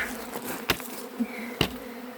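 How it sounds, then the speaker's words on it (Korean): Honeybees buzz around a feeding frame, with a steady low drone and a few closer passes that swell and fade, moderately loud with no talk. "이렇게 꿀벌이 많으면 좋겠다"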